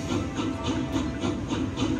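A short, steady rhythmic clatter of a train rolling along the tracks in a slot machine game, with regular clicking beats and a constant rumble.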